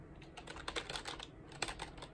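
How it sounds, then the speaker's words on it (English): Soft, quick clicks and taps of a computer keyboard's space bar, a few presses close together, faint and near. "So let's try hitting the space bar."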